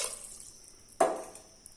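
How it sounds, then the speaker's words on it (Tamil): Water poured into Ponni rice in a pot for kuska, heard as a single brief splash that quickly fades after a quiet moment, close and fairly soft, with no voices. "2 கப்பு பொன்னி அரிசிக்கு 4 கப்பு தண்ணி ஊற்றிக்கலாம்."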